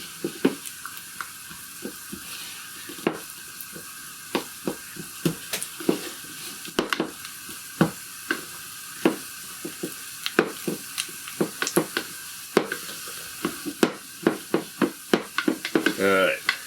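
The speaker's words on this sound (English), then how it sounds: "I'm just going to smoosh it around a bit" Cream cheese is smooshed and softened in a bowl, giving repeated soft scraping and tapping strokes at close range, growing busier toward the end, with occasional talking underneath.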